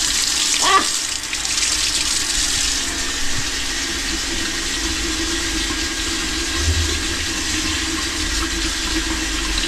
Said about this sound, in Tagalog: Nandito tumutulo.